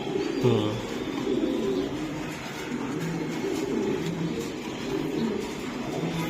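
Racing pigeons coo steadily in a loft, layered among constant bird chatter and a broad background hiss, with the soft rolling calls repeating throughout and no talk heard.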